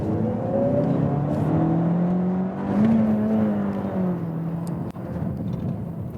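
Peugeot RCZ-R coupe with a 270 hp engine accelerating hard, its engine note climbing steadily through the gears in a sustained, fairly loud drone heard from inside the car, with no talking.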